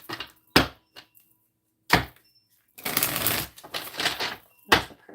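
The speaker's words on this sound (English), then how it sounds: "Let me shuffle the cards first." Tarot cards shuffled in separate bursts: a few quick riffle-like snaps early, then a longer stretch of papery shuffling and shuffling rustle, ending with one more sharp snap, close and clear with no talk.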